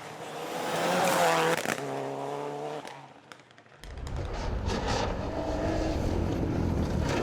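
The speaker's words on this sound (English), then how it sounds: "Class 20 Mitsubishi Evo 10." A Class 20 Mitsubishi Evo 10 rally car on a forest stage revs hard with a rising, harmonic engine note, dips briefly, then surges again loud and close through the rest of the run.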